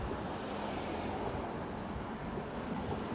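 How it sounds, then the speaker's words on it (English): Strong wind buffets high up on a bridge, a steady, loud roar of broadband rushing noise with no gaps over the whole stretch and no voices. "Oh, it's proper windy, isn't it? It's really windy."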